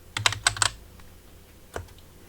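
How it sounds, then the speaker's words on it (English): A particularly clacky computer keyboard sits about a foot behind the microphone; four quick sharp key taps come in a burst, followed by a pause and then one more distinct tap, close and crisp. "Let's try some keyboard taps. This is a particularly clacky keyboard."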